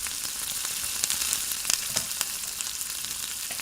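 Ginger and ground pepper frying with onion in a pan while being stirred, a steady bright sizzle with occasional spatula scrapes and pops, close and continuous without any voices.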